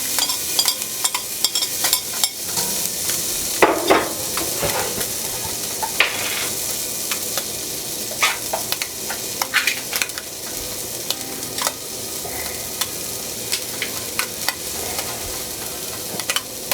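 Garlic and ginger frying in oil in a pan, a steady close sizzle with sharp crackling pops and bursts throughout, occasional stirring scrapes, no talk.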